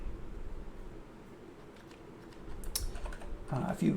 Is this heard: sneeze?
no